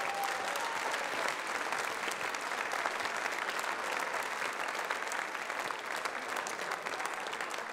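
Sustained applause from a large crowd at the 2018 Australian F1 in Schools national final awards ceremony, steady and dense throughout with no pauses.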